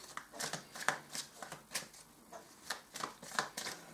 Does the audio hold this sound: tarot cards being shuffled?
yes